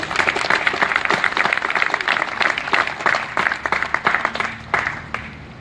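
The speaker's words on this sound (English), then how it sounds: "So a round of applause for our military as well." A crowd at an outdoor veterans memorial ceremony gives a round of applause, with steady, fairly close clapping from many hands that tapers off over a few seconds.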